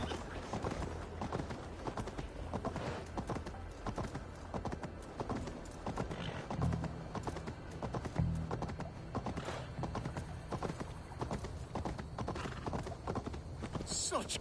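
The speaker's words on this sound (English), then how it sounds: "Stop that horse!" Steady clip-clopping video game horse hooves drum along continuously under a dense wash of background noise, with a whinny and some talk mixed in.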